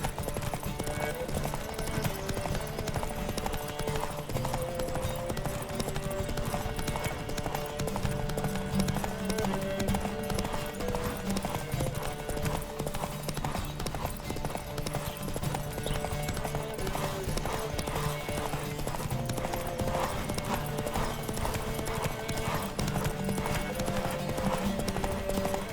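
Horse hooves galloping at full speed in The Witcher 3: Wild Hunt, a loud, steady, rapid clip-clop running without break for the whole stretch over layered game music.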